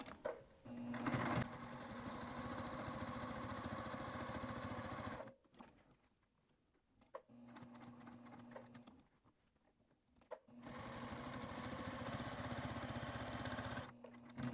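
A sewing machine stitches along the edge of a wristlet in a steady, close mechanical hum, running for about five seconds, pausing briefly with softer whirring, then resuming for two long runs.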